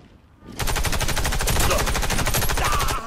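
Rapid automatic gunfire in the Xbox 360 shooter Warface, a dense sustained burst of close, loud shots starting abruptly after a quiet half-second and continuing to the end.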